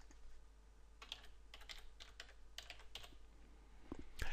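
Quiet, steady typing on a computer keyboard while entering a category name in a Joomla admin page, a run of light, irregular clicks close up, ending in a slightly louder keystroke.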